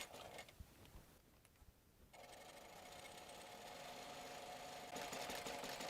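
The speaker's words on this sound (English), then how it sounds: "now I'm going to stitch the rest of the way down the side." A sewing machine runs steadily while stitching down the side of a crossbody bag, a quiet continuous mechanical whir that starts after a short pause and grows a little louder near the end.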